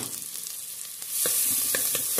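Onions frying in a pot of oil and ghee, a quiet hiss that swells into a louder sizzle with rhythmic spoon scrapes and stirring taps.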